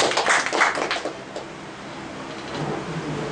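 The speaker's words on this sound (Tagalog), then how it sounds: "ating salubungin, pwede po tayong pumalakpak para sa kanya, sa ating Kristiyanong kapatid, Brother Cesar Balagat" A crowd at a Christian gathering bursts into applause to welcome Brother Cesar Balagat. The clapping is dense, loudest at first, then settles into a steadier wash.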